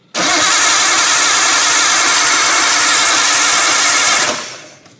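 Starter motor spins the engine of a barn-find R32 Skyline for roughly four seconds, a loud, even cranking drone that never fires up, then fades away.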